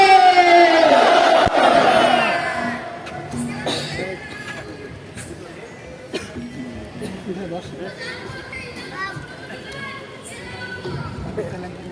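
A large crowd at a Jamaat-e-Islami general meeting in Chapainawabganj roars back in unison after a Takbir call. The loud massed shout peaks at the start and fades into a lingering murmur of chatter.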